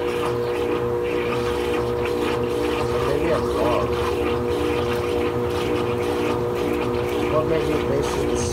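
A GE GTW680BSJWS top-load washing machine spins fast while washing a rug, giving a steady, loud mechanical whir and rumble with tonal hum throughout, with a voice talking over it.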